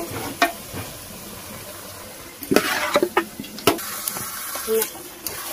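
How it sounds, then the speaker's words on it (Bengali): Chicken meat frying with spices in a pan in a Bengali village kitchen, a soft steady sizzle broken by sharp spatula scrapes and knocks against the pan. "এবার কষিয়ে নেব মাংসটা।"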